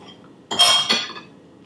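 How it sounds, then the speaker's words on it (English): A knife cuts a bite from a hot, crispy, buttery coconut toast, giving two close, sharp crunching crackles in quick succession within an otherwise quiet moment. "I'm going to cut a little bite. You hear how crispy it is?"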